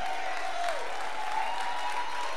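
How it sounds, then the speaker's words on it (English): Church service audience clapping hands steadily throughout, a broad, moderate wash of applause with a faint voice tone running underneath. "You better clap your hands."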